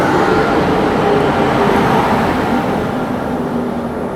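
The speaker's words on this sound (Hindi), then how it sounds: "चलिए दोस्तों, यहाँ पर अराइव करते हुए 15566 न्यू दिल्ली ललित ग्राम" The Vaishali Express, train 15566 from New Delhi to Lalit Gram, arrives at a station with a loud continuous rumble of wheels and coaches rolling past close by.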